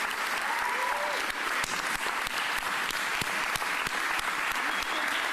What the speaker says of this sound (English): please make sure you give her a big round of applause